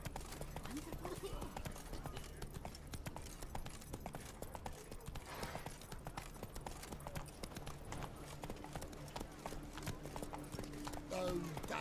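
A horse gallops in The Witcher 3: Blood and Wine, with steady rapid hoofbeats over game music and ambience, close and continuous, while a voice talks over it at times.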